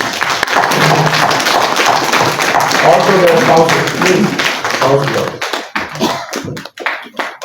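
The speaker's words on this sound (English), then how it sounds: "give them a big hand of applause to them" A conference audience claps for honored guests standing up, a burst of applause under a speaker's amplified voice at a Delhi business event, the clapping fading out near the end into scattered taps.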